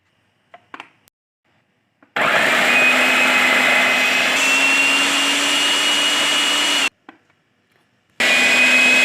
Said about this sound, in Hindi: तो चॉपर मैंने बंद कर दिया, ज़बरदस्त ये सारी चीज़ें चॉप हो चुकी हैं